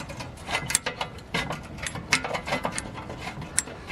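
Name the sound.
spinning parking brake star wheel adjuster on BMW E36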